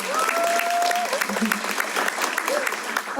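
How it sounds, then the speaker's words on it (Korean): Audience applause fills a live talk concert hall, a dense, bright wash of clapping heard through a few brief tonal sounds and murmurs, lasting around three seconds. "너무 좋은 말씀 주셔서 박수 한번 부탁드립니다"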